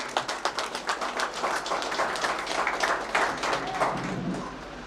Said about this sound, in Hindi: जोरदार तालियों से सम्मान।